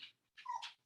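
A pet dog whimpers and yips nearby in two short bursts during a pause in a podcast conversation, the second burst a little longer and higher-pitched.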